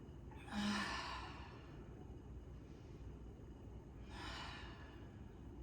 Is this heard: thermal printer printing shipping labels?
no